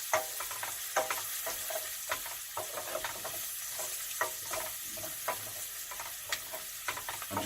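Paprika sizzles steadily in a pan for a Spanish cod sauce, a dense close frying hiss broken by scattered ticks and scrapes of stirring, with no voices.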